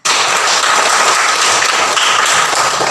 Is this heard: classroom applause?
yes